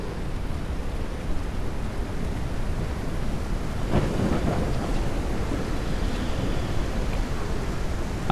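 A thunderstorm with steady rain in the game SurrounDead: a constant broad wash of rainfall with a low rumble of thunder swelling about halfway through, continuous and enveloping with no talk.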